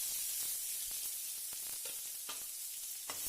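Crushed garlic and tomatoes sizzle steadily in a hot pan for an Assamese fish curry, a dense frying hiss broken by a few soft clicks of stirring, close and even throughout with no voices.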